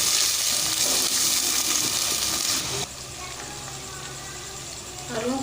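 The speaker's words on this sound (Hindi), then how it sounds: "अब हम इसके अंदर थोड़ा सा पानी ऐड करेंगे।" Water poured into a pan of frying chopped potatoes for aloo pulao, a loud broad sizzle that drops abruptly and settles into a quieter steady simmer with some stirring.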